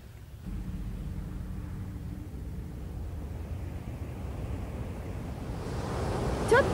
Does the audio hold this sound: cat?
no